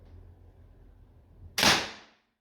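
A single sharp shot from an Umarex T4E HDR50 air pistol, a sudden loud crack with a brief hissing tail, following a stretch of quiet low background noise.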